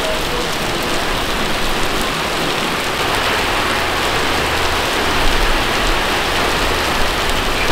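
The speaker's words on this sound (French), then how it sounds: "Mais regardez combien il pleut, c'est une dinguerie." Heavy rain pours down steadily at a pepper plantation in Kampot, Cambodia, a dense, loud hiss of drops hitting surfaces all around, with no voices.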